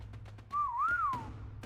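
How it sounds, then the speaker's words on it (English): A soft rising-and-falling whistle from a man in a tense fantasy setting, a single drawn-out tone of about three quarters of a second, moderately quiet above a low background hum. "gave a soft whistle"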